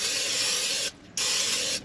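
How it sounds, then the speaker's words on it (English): Cooking oil sprayed from a can onto broccoli at a campsite, two sustained hissing bursts close to the microphone separated by a brief pause. "I'm gonna spray these a little bit."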